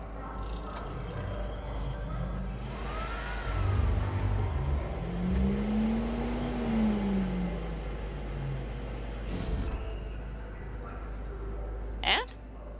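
Car driving and accelerating in the video game Cyberpunk 2077, a steady engine drone rising and falling in pitch under faint voices and background ambience, with a short sharp sound near the end.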